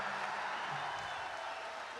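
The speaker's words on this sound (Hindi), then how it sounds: "तालियां जोरदार बजाओ एक बार।" Audience applause filling a hall during a Hindi comedy and satire stage show, a steady dense wash of clapping held at an even level for the full two seconds with no speech over it.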